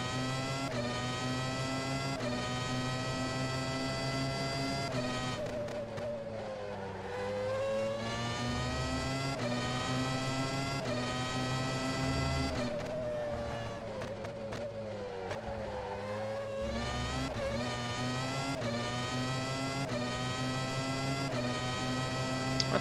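An Audi GT race car in the rFactor 2 racing game at Sebring climbs through the gears, its engine revving high toward the limiter with repeated rising pitch sweeps broken by brief dips at each upshift, loud and continuous.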